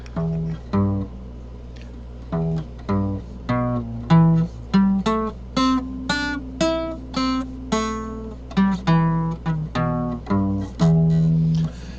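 A guitar plays a pentatonic scale in C tuning from a D-shape root, picked one note at a time in a clear, evenly spaced run up and back down, close and alone.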